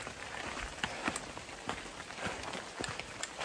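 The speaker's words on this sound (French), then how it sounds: "Il a beau pleuvoir" Steady light rain patters on surfaces along the pilgrimage route to Santiago de Compostela, with scattered louder drips and taps throughout.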